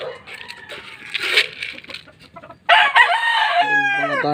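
Chickens cluck and squawk close by at feeding time, followed by a loud rooster crow rising and falling near the end.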